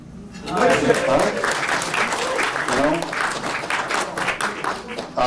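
Guests at an annual kickoff celebration dinner break into dense, sustained applause that swells quickly and holds for several seconds, with voices and murmuring mixed in.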